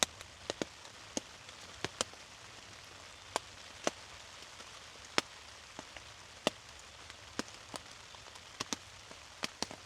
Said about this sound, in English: the rain hitting the tent